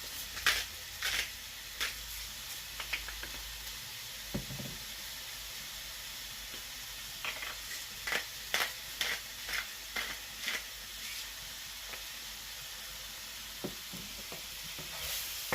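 Tomatoes sizzling steadily in a hot cast iron pan over medium-high heat, with a continuous frying hiss broken by scattered sharp stirring clicks and scrapes, close and fairly quiet, no talking.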